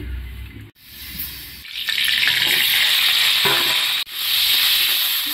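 Tempering spices sizzle steadily in hot oil in a kadai, a bright crackling hiss that swells after a stir and continues up close, briefly interrupted by clatters.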